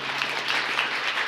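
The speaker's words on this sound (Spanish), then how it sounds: "¿alguien quiere aplaudir? Hágalo bien" A church congregation applauds during a sermon, giving a brief burst of broad, moderately faint clapping from many hands.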